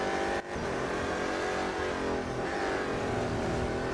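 A BMW M Hybrid V8 race car in the Real Racing 3 video game roars continuously at high revs, a dense engine drone with a brief dip near the start, with no talk.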